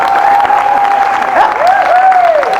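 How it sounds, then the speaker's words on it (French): Loud audience applause fills a live show hall, steady clapping from a large crowd with a sustained high voice or whistle-like tone riding over it and a few cheers. "Non, applaudissez pour vous."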